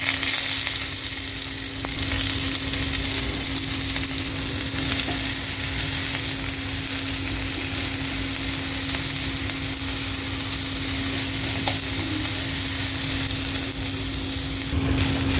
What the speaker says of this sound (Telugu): కొంచెం ఆయిల్ వేసుకొని అందులో ఆనియన్ అండ్ పచ్చిమిర్చి వేయాలి